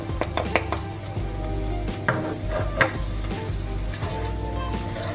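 Smoked paprika and mustard powder being stirred into chilli con carne in a pan, with spoon scrapes and clinks against the metal at irregular intervals over a low background rumble.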